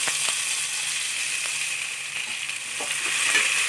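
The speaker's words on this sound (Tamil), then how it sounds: "நறுக்கிய வெங்காயத்தை போட்டுக்கலாம்." Chopped onions sizzle steadily in hot oil alongside whole spices such as cardamom, cinnamon and cloves while cooking for chicken biryani, a close, continuous bright hiss with occasional small crackles and stirring taps.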